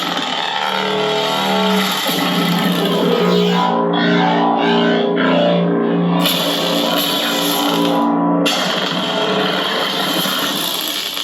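A Space Junk Sabers Scrapflex lightsaber running its liquid static sound effect, a loud, steady crackling distorted hum with fluttering, sputtering texture that continues without a break.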